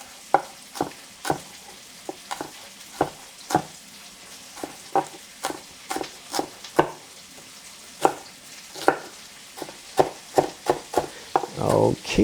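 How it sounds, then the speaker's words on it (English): A knife chops sausage into small pieces on a cutting board for Persian Sosis Bandari, giving sharp, close, irregular knock-like strokes at a steady pace that cluster faster toward the end over a quiet background. "we chop this to the smaller pieces also"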